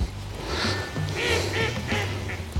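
A duck quacks several times in a row from fairly close by, nasal calls spread over a steady outdoor background near water, with no talk over them.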